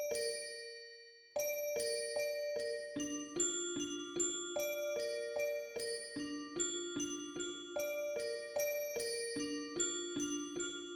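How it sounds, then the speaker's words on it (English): A bright bell sample plays a simple, catchy repeating melodic pattern in an electronic beat; clear tinkling notes ring out steadily and quietly with no voices, after a brief opening tone. "My next song, I got this bell from XRX. I made it like a very simple but catchy pattern."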